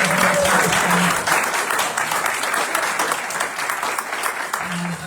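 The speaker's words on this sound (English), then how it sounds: "Let's give another round of applause for Natasha." A church congregation applauds at a Sunday celebration service, sustained dense clapping filling the room, loud and close, fading slightly toward the end.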